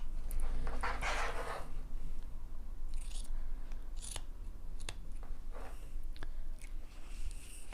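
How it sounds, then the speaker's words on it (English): Scissors cutting through two layers of fabric, giving a loud crunching snip at the start followed by several sparser, softer snips and clicks, close by with no talking. "cut through both layers of this as well"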